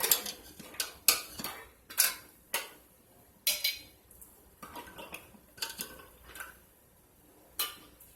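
Metal canning jar lids being set down and handled, a series of sharp clinks and taps at irregular intervals with quiet gaps between, close by.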